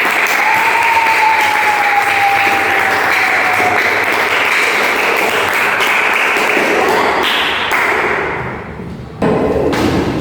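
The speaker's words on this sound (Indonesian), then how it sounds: "Beri aplaus untuk kelompok." A classroom of students applauds a presenting group, loud close clapping with a few sharper thuds mixed in, tapering off near the end before a brief final burst.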